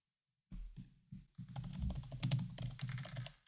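Rapid clicking of keys on a computer keyboard, typed in quick bursts with brief pauses, close up and fairly quiet.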